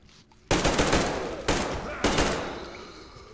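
Shotgun blasts in the Metro Exodus video game: three loud, close shots about a second apart, each a sharp crack trailing off into a decaying boom, with no talk over them.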